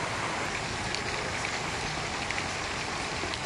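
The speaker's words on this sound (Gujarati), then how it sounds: "ધોધમાર વરસાદ ત્રણ દિવસના વિરામ બાદ શરૂ થયો છે" Heavy monsoon rain falling in Bhiloda taluka, Aravalli, Gujarat, a close, steady downpour with a thick constant hiss and scattered drop hits, no voices.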